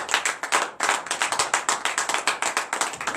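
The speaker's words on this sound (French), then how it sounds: "Frères et sœurs, que donnez vive acclamation les Seigneurs." Congregation at a morning prayer service clapping in acclamation: loud, close, rapid rhythmic clapping from many hands, steady and continuous with no talking over it.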